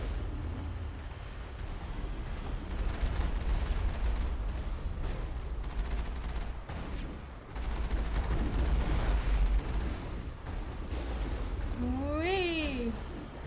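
Rocket fire from rocket troopers in a video game, dense blasts and booming explosions rumbling continuously amid combat noise, with a brief rising-and-falling electronic chirp near the end.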